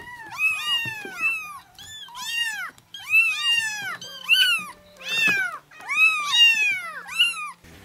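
Kittens meow repeatedly, high, bending cries coming in quick overlapping bursts close by, several voices calling over one another without pause.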